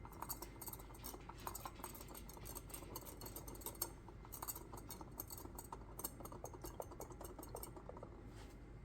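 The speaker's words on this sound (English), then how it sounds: "Give that a little stir." Plaster of Paris paint mixture being stirred, with quick light clinks and scrapes of a utensil against a container repeating steadily and close up throughout, with no talking.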